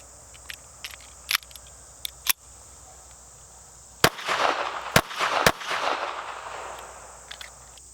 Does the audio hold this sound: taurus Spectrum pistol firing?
yes